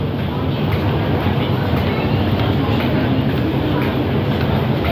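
Passenger train departing a busy station in central Hong Kong in the early morning, heard as a steady, loud low rumble of rail traffic blending with crowd noise for the whole stretch.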